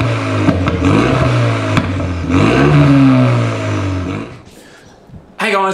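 A Renault Megane RS250 engine revs close by, rising and settling in a couple of swells before dropping to a low idle, followed by a short burst of speech at the end.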